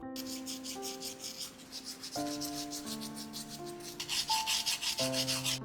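Steady, rhythmic rubbing of sandpaper over hardened air dry clay, soft and close, with quiet tonal background music underneath.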